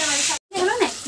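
Ridge gourd with poppy seed paste sizzling in a pan, a steady close frying hiss broken by a brief cut, with a voice talking over it.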